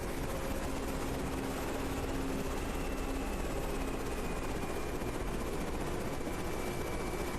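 Helicopter engine in the combat game Carrier Command 2 during an attack run, a steady broadband rotor-and-turbine drone that holds at an even level throughout with a faint whine on top.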